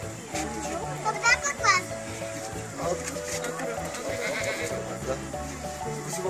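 Goats being handed over at a safari park, with repeated bleats rising over children's chatter and adult voices, fairly close and loud in an outdoor crowd.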